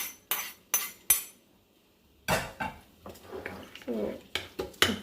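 A spoon scrapes and clinks against a bowl in a series of quick strokes while fried snake gourd and tempering are mixed into curd chutney, with a short pause in between.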